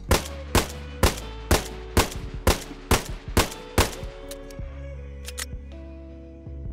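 A handgun, a revolver or Deagle in DayZ, fires about eight sharp, evenly spaced shots that ring out loud and close, followed by a few lighter mechanical clicks and handling sounds as the firing stops.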